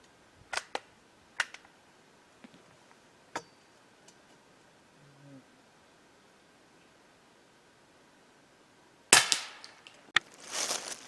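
Several sharp .22 caliber rifle shots with Remington Thunderbolt ammunition at an outdoor target shoot, scattered single cracks with a louder cluster near the end, no talking.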